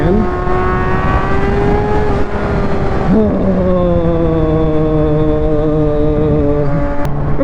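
A Kawasaki Ninja ZX-6R inline four-cylinder supersport motorcycle is ridden on the road, its engine wailing high and loud up through the revs, then dropping in pitch after a shift before cutting back sharply near the end.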